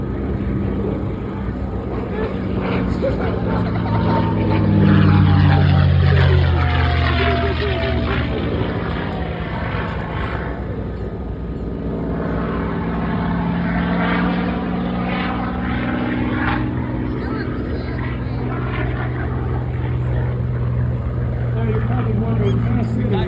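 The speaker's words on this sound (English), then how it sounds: "Why are you stopping when the airplane goes by? Because that Mustang speaks the story of the airplane better than I ever will" A P-51 Mustang, an Allison-engined warbird, drones past at an air show with a loud propeller roar that swells and sweeps in pitch, steady throughout, while a person talks over it.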